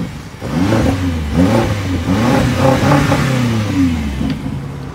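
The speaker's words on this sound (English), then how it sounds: "I'm gonna give it a little gas so you can hear it" A BMW X5 M engine revs up and holds a raised rumble for several seconds before easing off, loud and close with no talking.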